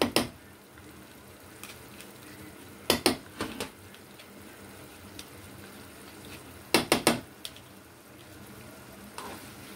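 Butter is stirred into Dhaba-style lasuni palak paneer in a pan, with soft low sizzling broken by several sharp clusters of a spoon clattering against the metal.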